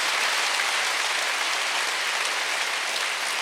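A church congregation claps hard during a Wednesday worship service, a dense, even wash of many hands that stays steady from start to finish without any talking.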